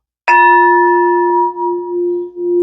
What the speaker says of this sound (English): You're going to hear the singing bell,